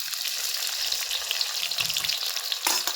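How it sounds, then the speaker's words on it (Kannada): Chopped onions frying in a pan with cumin and mustard seeds, a steady close sizzling hiss with light stirring scrapes and a brief louder burst near the end. "ಫ್ರೈ ಮಾಡ್ಕೊಂಡ್ರಿ ಉಳ್ಳಾಗಡ್ಡಿ ಚಂದ"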